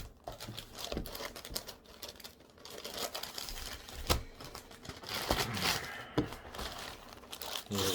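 Crinkly plastic wrap is pulled and peeled off a Dell Inspiron 3505 laptop during an unboxing. It makes a continuous, close rustling and crackling with sharper tearing bursts, with no talking.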